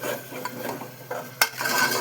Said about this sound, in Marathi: जोपर्यंत तेल सुटत नाही ना तोपर्यंत परतत राहायचं.